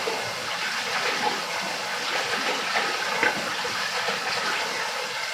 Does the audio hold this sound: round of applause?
no